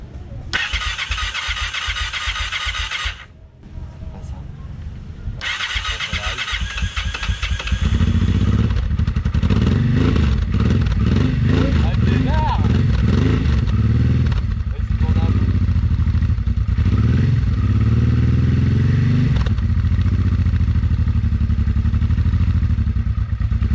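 A Honda Transalp 600 motorcycle engine cranks with a starter whir, stalls briefly, then catches and settles into a loud, steady, close idle with a throbbing clatter.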